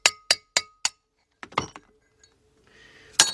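A hammer strikes a chisel against a wheel bearing race on a 1996 Ford F150 front hub, four quick ringing metallic taps in a row, then a few scattered knocks and clinks, with another sharp strike at the end.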